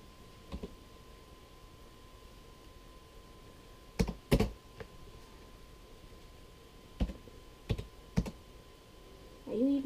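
A handful of sharp computer keyboard key clicks come in two short clusters against a quiet room hum, loud and close.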